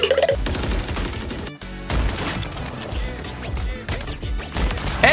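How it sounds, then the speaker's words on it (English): Sniper rifle shots crack in Warzone, sharp gunfire hits spaced through a busy mix with a musical backdrop and other game effects. "Long range sniper kill."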